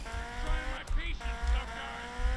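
A motorcycle ridden in GTA Vice City: a steady, loud engine drone with shifting pitch, plus brief tire and road noise, continuous throughout.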